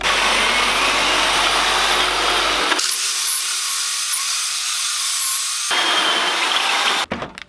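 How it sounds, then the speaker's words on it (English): A power drill bores a hole through a wooden wall stud during plumbing rough-in for a slop sink in a barndominium workshop, a loud steady whine that shifts pitch partway through, then stops abruptly at the end. "I know exactly where to drill a hole through the stud"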